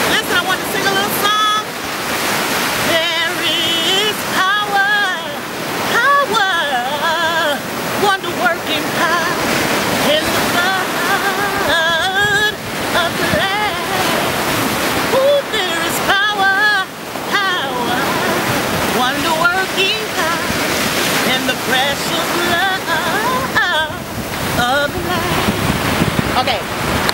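Ocean surf rolls onto a beach at sunrise in a steady, loud wash mixed with gusty wind buffeting the microphone. A voice sings and talks close over the constant roar.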